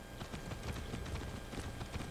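Horse hooves clip-clop steadily in Far Cry 6 during a ride, a quick regular galloping rhythm of close, moderately loud hoofbeats with no talk over them.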